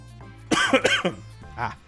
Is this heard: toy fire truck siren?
no